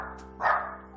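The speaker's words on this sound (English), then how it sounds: "At any given time, there could be up to 100 dogs, 150 dogs just on average here." A single loud bark rises briefly over a steady low hum at a busy doggy daycare that holds up to a hundred or more dogs.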